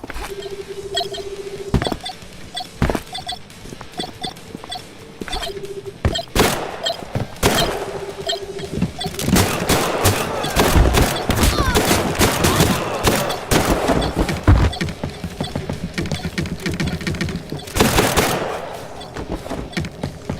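Video game gunfire rattles in rapid repeated shots, with sharp bursts and volleys that grow denser in the second half, loud and close.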